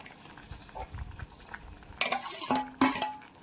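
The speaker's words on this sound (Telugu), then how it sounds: "వేయించి పెట్టుకున్న సేమియా కూడా ఇందులో వేసేద్దామండి" Fried vermicelli tipped into a pot of cooked moong dal and stirred, with a spoon clanking and scraping against the pot in a few loud, close knocks over soft kitchen background.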